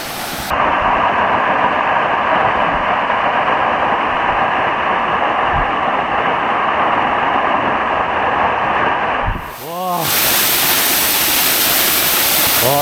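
Steady, loud roar of a 40-metre natural waterfall in Gyeonggi Province, South Korea, pounding continuously, with a short dip and whoosh near the end before the heavy rushing resumes.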